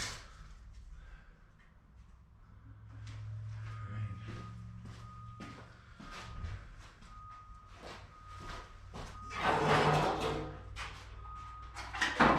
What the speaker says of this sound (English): You can hear that beeping, it's the propane company showing up to top our tank off.